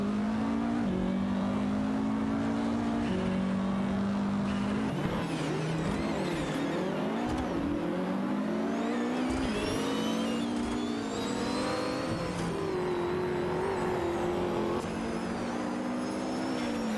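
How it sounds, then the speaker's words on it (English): Race cars in a racing video game, including a Lamborghini Diablo Jota and a Chevrolet Corvette, roar nearby. Several engines rev and climb through the gears continuously, and the pitch sweeps up and down as they shift and overlap. "The racing is intense as they weave through the turns, looking for any opportunity to gain an advantage."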